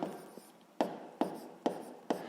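Pen writing numbers on paper during a sixth-grade maths exercise, with four or five short, sharp scratching strokes at steady intervals, close and clear, no talk.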